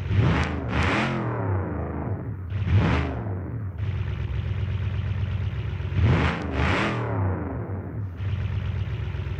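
Westlander Runner car engine in a racing video game, revving up in two rising bursts and settling back to a rumbling idle between them, loud and close with no voices.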